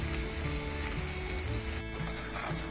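Green chili and cumin seeds frying in hot oil give a close, steady sizzle that carries on without pause and with no voices over it.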